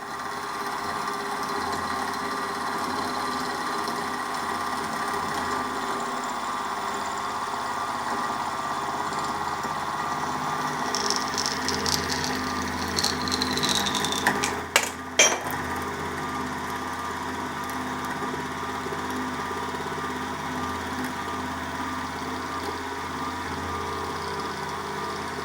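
Milling machine plunge-cutting through the metal front frame of a Farm Boy hit and miss engine with a long cutter, a steady close grinding whine with a brief sharp chatter of clicks midway.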